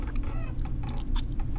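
Chicken clucking from the video game I'm Counting To 6, heard as a creature eats the bird; a steady run of close, agitated clucks and squawks over a low droning background for under two seconds.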